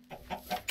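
Chicken clucking in a survival video game: three or four short, close clucks in quick succession, moderately loud with no talk over them.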